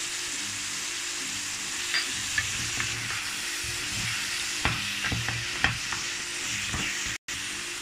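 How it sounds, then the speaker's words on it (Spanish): Tomato and paprika are stirred in a frying pan for an organic chicken and vegetable rice. A steady close sizzle runs throughout, with scattered spoon scrapes and taps. No one speaks. "removemos bien y echamos el tomate"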